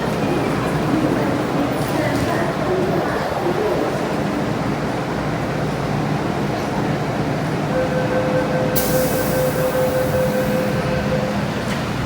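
A loud, steady rumble of a subway train fills Sham Shui Po Station, with a brief high tone near the end and faint voices underneath.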